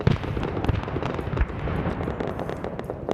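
Grenade explosions in the Arma 3 SOG Prairie Fire Vietnam War expansion, heavy booming blasts mixed with crackling gunfire in a continuous loud battle din, no voices.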